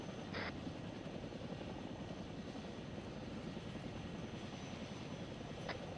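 A Chinook helicopter in the Arma 3 game drones steadily overhead, a constant rotor and engine roar holding at even loudness throughout with no voices.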